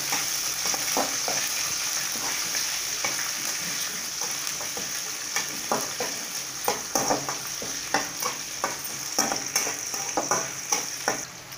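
Shallots and curry leaves sautéing in hot oil for brinjal kulambu, a constant close sizzle broken by repeated spoon-stirring scrapes and clatters, growing more frequent toward the end, with no voices.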